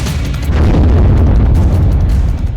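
Explosion at the Chernobyl nuclear power plant in Ukraine: a continuous, heavy low rumbling roar that stays loud and dense throughout, with no voices.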